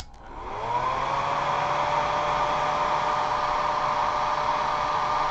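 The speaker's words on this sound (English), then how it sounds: "We're going to blow dry." A hair dryer whirs up after a brief click and then blows steadily with a loud, even airy roar.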